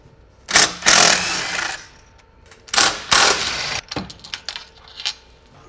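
A power drill with a 7/16 bit works on a multi-slide pocket door's wall interlock, giving two long, loud grinding bursts followed by a run of short clicks and spurts, with no talking.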